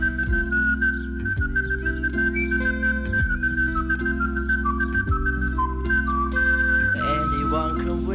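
Someone whistles a bright, steady melody over a full instrumental backing with a deep, pulsing bass line.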